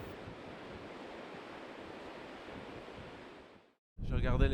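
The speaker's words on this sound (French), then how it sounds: "il prévoyait des grosses vagues avec un bon vent" Strong wind and big surf on the Côte Bleue coast roar as a steady wash of noise buffeting the microphone, then cut out briefly before a burst of louder rushing wind returns near the end.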